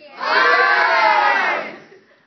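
High school students yell loudly together in one big burst. It swells fast, holds for about a second and then fades.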